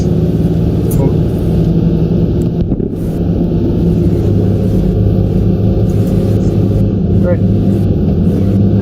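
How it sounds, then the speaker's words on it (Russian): Steady engine rumble of an approaching vehicle in the military game Squad, a loud continuous low drone with wind noise, running under radio chatter and voices. "Кто-то едет к нам."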